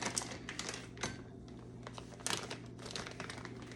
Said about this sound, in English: I use that to cut open the light brown sugar.